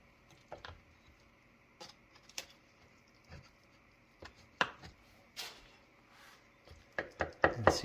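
A butter knife cuts through an enchilada casserole in an aluminum pan, giving scattered soft taps and scrapes against the metal, sparse at first and then quicker and louder near the end.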